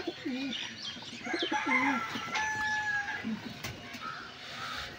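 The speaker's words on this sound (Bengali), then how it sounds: "এটা মাদি পায়রা।" Pigeon cooing at close range: a female pigeon in a collection of pet pigeons gives several low, rolling coos in short phrases, with a few higher chirps and other birds faintly behind, no talking.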